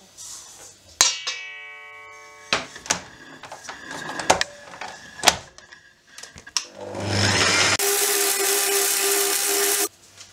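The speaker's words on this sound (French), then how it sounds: "nous le faisons au robot" A food processor creams vegan brookie batter with sugar. Scattered clinks and clatters are followed by a loud, steady whirring run of about two seconds that stops abruptly.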